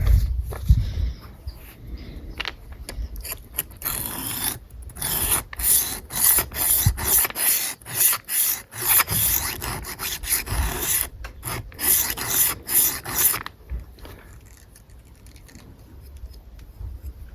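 A knife rasps repeatedly through a roller sharpener, close and loud, in a fast run of back-and-forth strokes that stops near the end.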